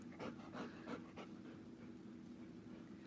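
A dog breathing loudly and panting indoors, a quick run of close, rhythmic huffs at the start giving way to steadier, softer breathing, quiet and alone.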